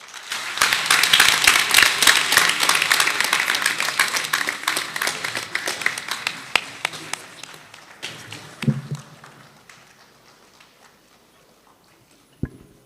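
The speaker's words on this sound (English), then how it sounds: "another thunderous round of applause for our guest speaker, Dr. Soji Tete" A lecture audience applauds their guest speaker with loud, dense clapping that slowly thins into scattered claps before dying away, with a thump near the end.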